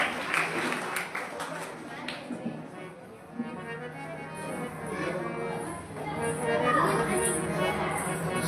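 Applause from a crowd honouring a couple at a Kannada religious gathering at a Shiva math in Talikota, a sustained mass of clapping with children's voices and chatter mixed in throughout.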